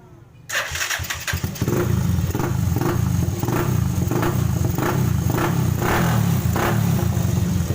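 Rusi TC 125 motorcycle, fitted with a 28mm flat slide carburetor and 62mm block, cranks and fires up after a brief silence, then settles into a loud, close, steady rumbling idle with rhythmic pulsing.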